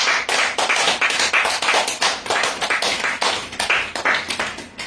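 A congregation at a sermon breaks into close, loud, continuous hand clapping, sharp claps packed densely with no talk over them.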